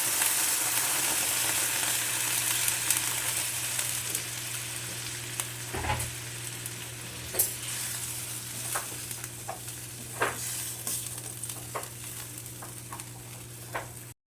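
Hot water goes into a sizzling pan of jackfruit curry cooked in a mutton style. A loud, continuous fry-hiss with scattered sharp pops and crackles runs steadily throughout.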